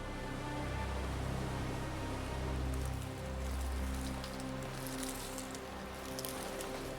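Steady rain falls on surfaces outdoors in cold, wet weather, a constant close wash of patter with a low rumble and scattered droplet ticks, no voices.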